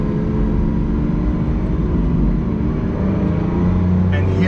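Lamborghini Aventador SVJ with 770 horsepower, its engine droning loud and steady at close range throughout, a continuous low-pitched roar that holds without distinct rev peaks.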